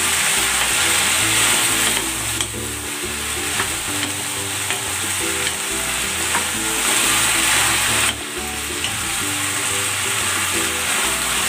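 Chicken and beans stir frying in sauce, a loud continuous sizzle with rhythmic scraping and tossing strokes of a utensil in the pan throughout.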